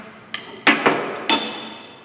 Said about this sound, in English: Then use the hammer.